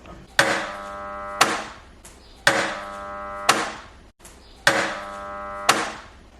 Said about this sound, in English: you would see that it is kneading at the moment